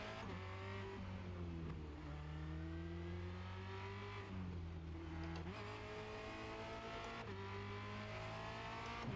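A Formula Renault 2.0 race car at Circuit de Barcelona-Catalunya, heard from the cockpit with its engine howling loud and continuous, its pitch climbing through the gears and dropping on each shift, with no talk.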